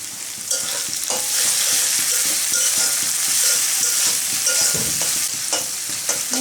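Poppy seed paste and onion frying in a pan for a potato poppy seed curry: a loud, steady hiss of sizzling oil up close, broken by light scrapes and taps of stirring, with no voices.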